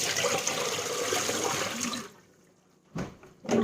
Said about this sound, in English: Dump the dirty water out.